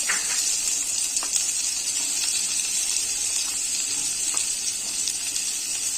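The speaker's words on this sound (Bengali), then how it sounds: "কুচনো পেঁয়াজ দিয়ে দিয়েছি একটু নুন দিয়ে দেবো যাতে তাড়াতাড়ি নরম হবে পেঁয়াজটা পেঁয়াজটাকে ভেজে নেবো ভালো করে" Chopped onions with a pinch of salt, added after five-spice, frying in hot oil, giving a steady, close sizzle that holds through the whole stretch with faint clicks of a utensil.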